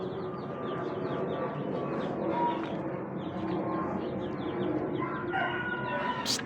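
A flock of chickens with chicks bustles about, with clucking, cheeping and a rooster crowing over a steady, busy background at moderate distance.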